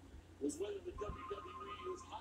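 A phone ringtone chimes faintly in the background while a person keeps talking over it.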